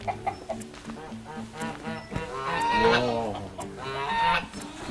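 Geese guarding a nest where eggs are being brooded on a rural farm honk and cackle in loud, repeated nasal calls that overlap and swell, with faint voices talking in the background.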